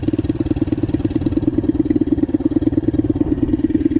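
A Loncin Turbo pit bike engine runs steadily while being ridden, a loud, continuous mid-pitched drone with a fast pulsing throb that stays close throughout the four seconds, with no talk.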